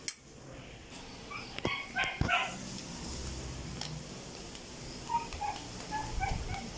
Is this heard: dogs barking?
yes